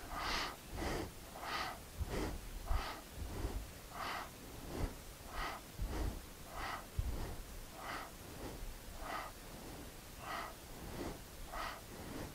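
Steady rhythmic breathing in and out during a Kundalini yoga exercise, about a dozen soft paced breaths repeating evenly, close and fairly quiet with no talking.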